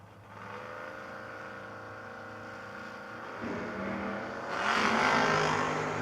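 No-box 660 drag race cars, among them a Chevelle, build from a steady engine drone into a louder, rising roar as they launch, with no voices heard.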